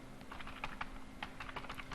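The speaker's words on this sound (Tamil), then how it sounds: "ஒரு மெசேஜ் நான் டைப் பண்ணிக்கிறேன்" Fast, uneven tapping on a computer keyboard as a message is typed, close and fairly quiet, with no voices over it.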